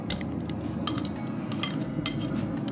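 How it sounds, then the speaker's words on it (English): Crispy smoked chicken wings being tossed in honey mustard sauce, a close, continuous rustle of wet crackling with clinks of a utensil against the bowl. "you can hear the crisp on the skin as I mix up this sauce"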